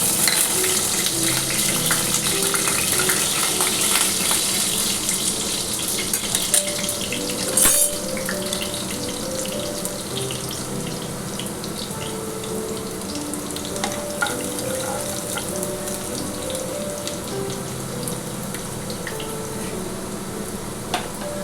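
Minced garlic sizzles in white oil in a wok for Kolkata-style chilli chicken, a steady close crackling hiss that runs throughout with a brief clatter partway, and no talking.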